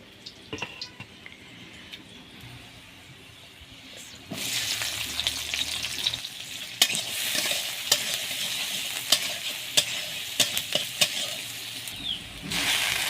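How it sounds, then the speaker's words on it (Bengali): Red amaranth leaves frying in a pan. A quiet start with light clinks gives way to a loud, steady sizzle and stirring after a few seconds, with sharp scrapes of the spatula at intervals and no talk. "লাল শাকটা আমি একবারই বসাবো একবারই ভাজি করব"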